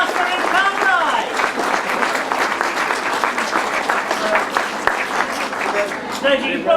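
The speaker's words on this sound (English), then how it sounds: "a big round of applause for our sidecar winners" Outdoor crowd applauding the sidecar grasstrack winners, steady dense clapping filling the whole stretch, with a few voices and whistles mixed in.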